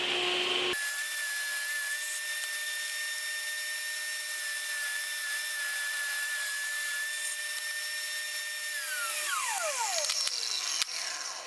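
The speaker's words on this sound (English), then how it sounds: "So my first cut on the table saw was just to take off that piece" A table saw cuts walnut wood, holding a steady high whine for about eight seconds before the blade winds down, then faint clicks; loud and close, no talk.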